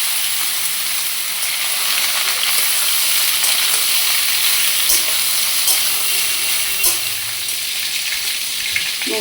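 Boiled drumstick stems and potato fry in a pan with five-spice (panch phoron) and dried red chillies, giving a steady, dense sizzle and crackle that runs throughout with no voices.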